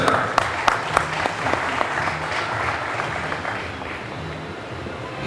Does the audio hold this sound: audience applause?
yes